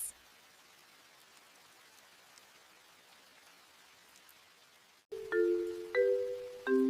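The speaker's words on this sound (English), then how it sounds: "Rain is just wet and cold." Soft, steady rain patter for about five seconds, then louder tonal musical notes cut in and repeat.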